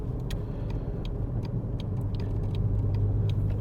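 Steady low rumble and noisy tyre roar from a Mk4 Volkswagen Golf driving on a road, continuous and fairly loud from the inside, with faint ticking clicks on top.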